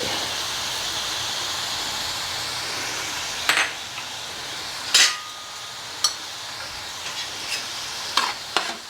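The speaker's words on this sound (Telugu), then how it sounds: "ఉల్లిపాయ ఏగుతుంది కదండి" Onions frying in a pan with garam masala spices while cooking Godavari small fish pulusu: a steady close sizzle with occasional sharp clinks and scrapes of stirring.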